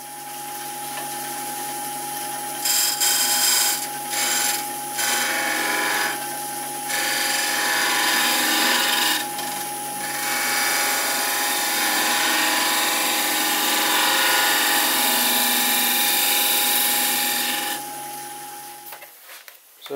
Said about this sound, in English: I'll use the skew chisel just to clean up the side, and then we can do a bit more shaping.